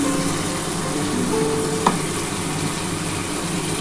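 Spices frying in a pan for a duck egg curry give a steady, close hiss of sizzling oil with a single brief clink partway through and no voices.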